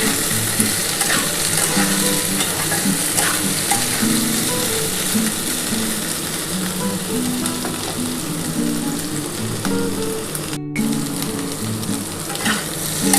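Potatoes and okra fry in a pan with a dense, continuous sizzle, overlaid by scraping and clinking as the pieces are stirred, close and steady with no voices.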